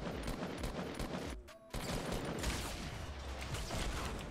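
Rapid gunfire in Fortnite fires nearly continuously in dense, loud volleys, with a short gap before the shooting resumes.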